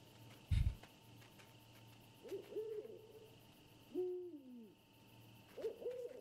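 An owl in the video game Endling: Extinction is Forever hoots a few times, faint and spaced out over a quiet game ambience, after a single dull thump near the start.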